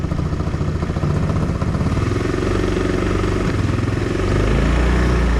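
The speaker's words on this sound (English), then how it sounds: "that engine is cold" A cold engine idles close by with a loud, steady rumbling chug and a faint clattery edge, running on evenly without any talk.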